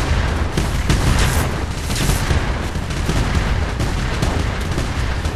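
Video game gunfire in a frantic match, dense overlapping shots and booms rattling continuously, loud and close, with no clear speech over it.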